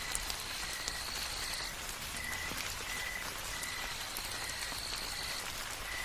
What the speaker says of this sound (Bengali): কিন্তু বাইরে তো বৃষ্টি পড়ছে